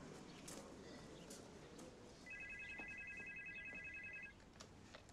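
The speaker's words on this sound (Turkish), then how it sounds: "Hayırdır, telefon çaldı." A telephone rings once with a bright electronic trill lasting about two seconds, set against faint background ambience and occasional clicks.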